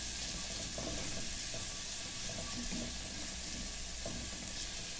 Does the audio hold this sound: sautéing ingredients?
yes